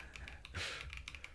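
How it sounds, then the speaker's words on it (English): Rapid, frantic clicking and tapping on a computer keyboard, a quick burst of close keystrokes with one louder clack partway through, with no voices. "I'm furiously clicking on my keyboard to move"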